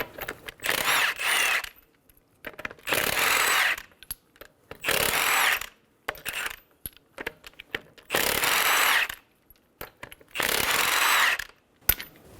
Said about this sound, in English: Using a 21mm socket, remove the lug nuts.